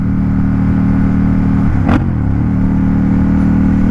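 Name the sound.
motorcycle engine revving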